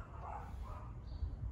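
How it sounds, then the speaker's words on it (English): Dogs bark in the background, a few scattered yaps over a steady low rumble, moderately loud but brief. "Dogs being dogs."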